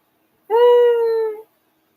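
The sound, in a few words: stop-motion dog in the film Clash of the Titans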